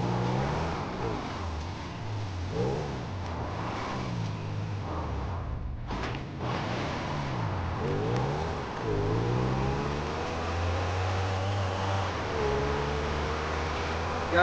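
A motorbike engine in the video game GTA 5 revs and drones steadily, rising and falling in pitch with repeated throttle swells over a continuous hum.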